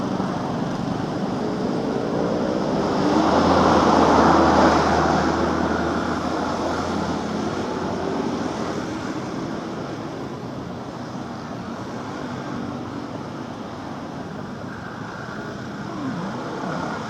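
Vehicle traffic on the road between Bekasi and Jakarta, following behind a truck, a broad continuous roar of engines and tyres that swells louder for a few seconds and then settles into a steady drone.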